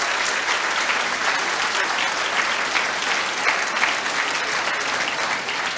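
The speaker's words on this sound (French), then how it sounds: "effectivement, on peut l'applaudir." A crowd at a mayor's New Year address in Port-Saint-Louis-du-Rhône breaks into sustained applause, a thick, even wash of many hands clapping that holds steady throughout without talk.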